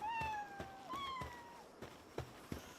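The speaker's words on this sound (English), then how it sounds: "I hear meowing." A cat meows twice in long, drawn-out calls, close and clear, followed by a few soft knocks and taps with no talking.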